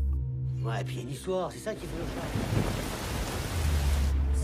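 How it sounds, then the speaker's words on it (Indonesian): A night thunderstorm over a village, with heavy rain hissing steadily and low thunder rumbling beneath, while a voice speaks over the start of the storm. "Di malam harinya, desa tersebut dilanda hujan badai"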